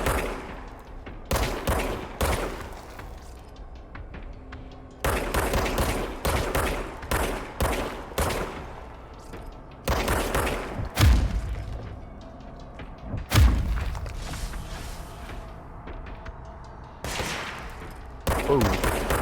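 Gunfire from weapons in the video game Control: repeated short bursts of rapid shots separated by brief pauses, loud and close, with heavy booming impacts in the middle.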